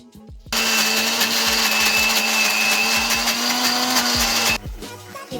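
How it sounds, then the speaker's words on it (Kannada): A kitchen mixer grinder (mixie) runs loud and steady for about four seconds, grinding cooled spice paste in its jar, with a clear start and a sudden stop and no talk over it. "ತಣ್ಣಗಾದಮೇಲೆ ಮಿಕ್ಸಿಗೆ ಹಾಕಿ ರುಬ್ಬಿ"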